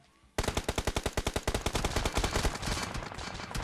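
Rapid automatic gunfire from enemies in PUBG Mobile, a loud steady burst of evenly spaced shots that speeds up into a denser, continuous rattle without pause.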